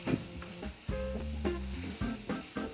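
Pad kra pao stirred in a hot pan, a spatula scraping and clacking in a few uneven strokes over a steady sizzle, close and fairly quiet.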